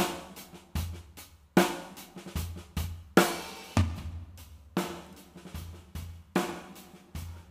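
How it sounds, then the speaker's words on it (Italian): A full drum kit plays a steady groove with punchy kicks, snare hits and crashing cymbals, captured with an open, roomy sound from a single Neumann TLM 102 overhead microphone. "Questo è il suono del solo TLM sulla batteria, un solo microfono per tutta la batteria."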